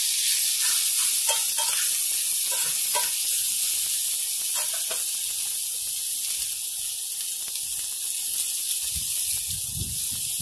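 Diced potatoes fry for home fries, giving a steady, loud, bright sizzle that holds for the whole stretch, with occasional soft stirring clicks and a low scrape near the end.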